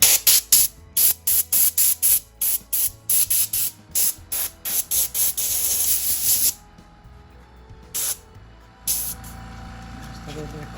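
Compressed air blasting out a live-edge cherry wood bowl: a run of short, loud hissing bursts in quick succession, then a longer steady blast, with two more isolated spurts after a pause.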